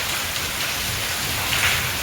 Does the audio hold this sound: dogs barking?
no